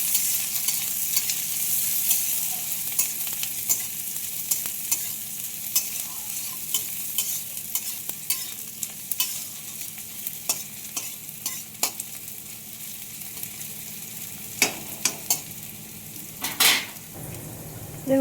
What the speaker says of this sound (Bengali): এখন লাল লাল করে ভেজে নেব